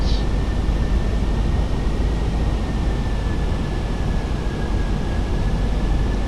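An Airbus A320 cruises in Microsoft Flight Simulator with a steady, dense broadband engine and airflow roar and a faint constant whine above it, unbroken throughout.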